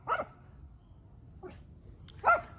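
A dog outdoors on a walk barks a few sharp, separated times at moderate distance, with quiet gaps between barks.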